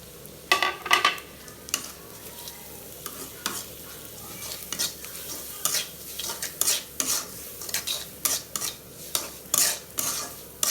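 Chopped garlic and salt fry in a pan for a prawn and cabbage dish, a soft sizzle under repeated sharp scrapes and clinks of a utensil stirring against the pan.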